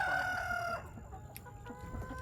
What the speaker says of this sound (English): How many hens are in here? I think 4 hens are in here.